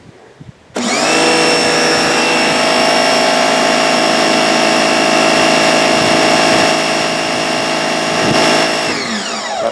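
A SunJoe electric pressure washer switches on abruptly and runs at a loud, steady whine with a constant motor and pump drone until it cuts off near the end, with no talking.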